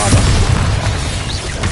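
Bombarda blasting spell in Hogwarts Legacy, a loud, dense explosive burst filling the clip with sustained booming rumble and crackling debris, no voice over it.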